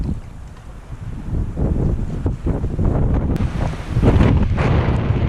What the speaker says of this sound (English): Serious wind out here.